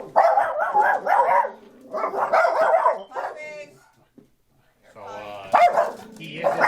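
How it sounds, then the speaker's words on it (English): A dog barks in short bursts alongside people talking, the barks mixed in with the voices. "The dog's going to start barking."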